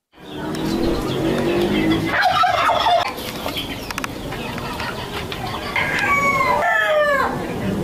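Ornamental chickens and turkeys on a Tangerang farm fill the air with loud, close gobbling and rooster crowing over a constant noisy background of many birds.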